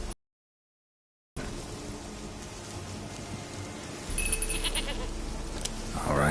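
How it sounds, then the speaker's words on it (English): Goat bleating in the video game The Witcher 3: Wild Hunt, a few short, nasal calls over a steady outdoor ambience of wind and faint rain, with no talk over them. "Here, goat."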